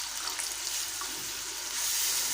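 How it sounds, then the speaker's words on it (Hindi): Water pours steadily from a half glass into a pan of egg and pea curry, a continuous close splashing hiss that swells slightly toward the end. "इसमें मैं हाफ गिलास जो है इसमें मैं पानी का ऐड करूँगी।"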